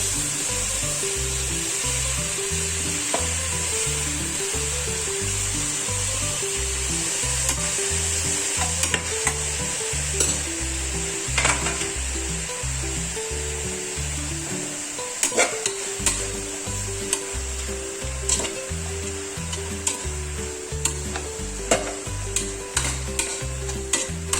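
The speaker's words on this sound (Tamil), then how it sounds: "எல்லாத்தையும் நல்லா வதக்கிக்கணும்." Ingredients for mutton vellai kurma sautéing in a pan, a continuous close sizzle with repeated scraping stirs and occasional clinks of the spoon throughout, no voices.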